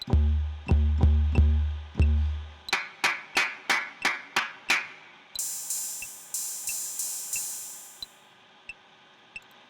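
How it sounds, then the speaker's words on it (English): Sharp hand claps recorded for a SoundTrap music project, a steady series of single claps in isolation, first over low drum-like thumps, then alone, and later over a bright high hiss, fading toward the end. "my clapping"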